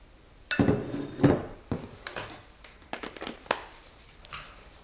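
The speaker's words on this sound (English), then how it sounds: "Get as much of this soap batter out with my handy dandy spatula" A spatula scrapes thick soap batter from a container, giving several close scraping strokes and soft knocks against the sides, spaced irregularly over a quiet background.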